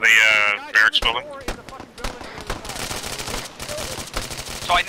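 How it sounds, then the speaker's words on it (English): Gunfire from a barracks building in Arma 3, sharp shots and rapid bursts cracking in irregular clusters at mid distance, mixed with someone talking over radio-style chatter and game noise. "Shots coming from the barracks building."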